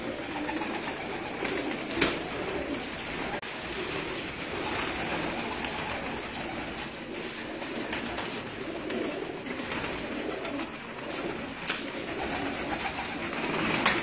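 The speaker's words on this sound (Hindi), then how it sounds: "रहा जी ब्रीडर कबूतर है जी" Breeder pigeons coo steadily on a rooftop in Gujrat district during a pigeon-flying cup, with wing flutters and broadband outdoor noise continuing throughout without speech.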